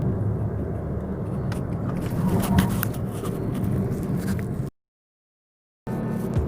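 A Ford Fiesta 1.4 TDCi 68 hp diesel car drives on an open road, giving a steady loud cabin rumble with road and wind noise, cut by a sudden gap of silence before resuming.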